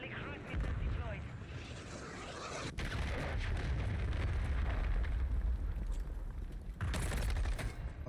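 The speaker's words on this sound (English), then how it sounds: "Friendly cruise missiles deployed." Cruise missile strikes in Call of Duty Warzone, a continuous heavy rumbling roar of explosions with crackling blasts and a sharp burst near the end, loud and dense, with game voice lines and talk mixed in.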